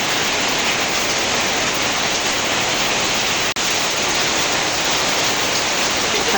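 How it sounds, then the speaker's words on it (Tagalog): Heavy rain pours down in a dense, unbroken roar, loud and close, with a brief dropout partway through and no voices over it. "Bumuhos na ang malakas na ulan."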